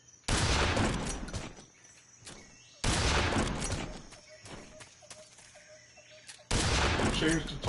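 Three loud bursts of gunfire from a gun in Metal Gear Solid 3, each a dense volley lasting a couple of seconds, separated by quieter gaps with faint tones and scattered sounds.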